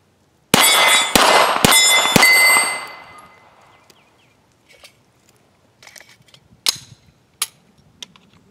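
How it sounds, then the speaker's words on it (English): Four rapid gunshots with steel targets ringing on Christmas morning shooting practice, loud and close with long metallic ring-out, followed by quieter scattered clicks and taps. "I just got some shooting in today on Christmas morning"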